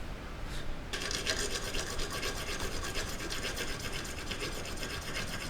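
Wood furniture is hand sanded with steady, rapid back-and-forth rasping strokes, close and continuous after a brief quiet start.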